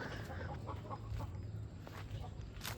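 Several chickens cluck softly in a backyard coop, including a broody hen sitting on eggs, with low murmuring clucks and brief calls over steady farmyard background noise.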